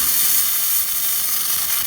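Air Venturi high-pressure air compressor being bled, releasing air and moisture in a loud, steady rushing hiss that continues unbroken at close range.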